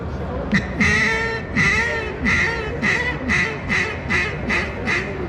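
Cajun squeal duck call mimicking a mallard hen with a full craw: a run of about eight raspy, nasal quacks in quick succession, close and loud, the first few drawn out and the later ones shorter and evenly spaced.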